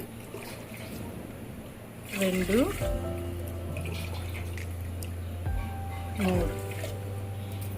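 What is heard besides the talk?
water poured from a glass into a cooking pot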